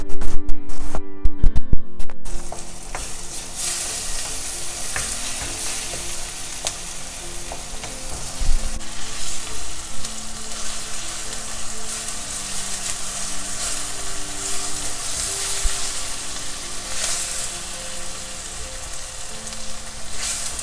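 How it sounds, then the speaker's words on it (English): Chopped tomato sizzles and fries in a pan while a spatula stirs it, a steady close crackle with a few louder scraping bursts at the start, no voices. "Cook the tomato until it's mashable."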